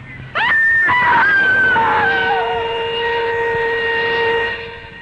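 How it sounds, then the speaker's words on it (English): Shrill, piercing scream from a woman in a radio drama, rising and wavering in pitch before settling into a long sustained wail that fades out, loud and close. "A woman screamed and cried for help on the Wayfield Common"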